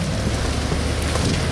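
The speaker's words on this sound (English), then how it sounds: "We're about to get bombarded by rain here." Heavy, dense rain from a tornado-warned storm in East Central Illinois roars steadily with a low rumble underneath, loud and constant throughout.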